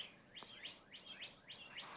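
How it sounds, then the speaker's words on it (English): Birds chirping outdoors in a shady backyard in spring, a repeated series of bright, rising tweets at a steady rhythm, moderately distant and faint over a quiet background. "Listen to the birds and enjoy"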